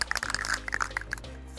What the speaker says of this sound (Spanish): Agitamos nuestro spray